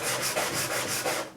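Hand sanding of a workpiece with sandpaper, a steady close rasping rub in repeated back-and-forth strokes, alone with no voices.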